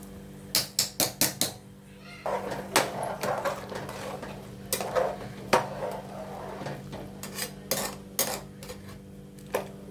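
Washed, soaked and drained rice added to boiling water in a pot for a festive pulao: a quick run of bright metallic clinks, then scraping, pouring and clattering of utensils against the pot, with a faint voice talking.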